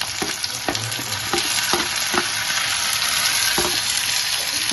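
Chopped tomatoes fry in an oily pan with onions, chilli and garlic, giving a loud continuous sizzle close up, broken by repeated scraping stirs of a spoon against the pan. No voices.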